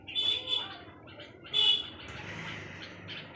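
Pigeons around a home loft give brief chirping calls and soft coos in two short bursts, with faint rustling and background ambience between them.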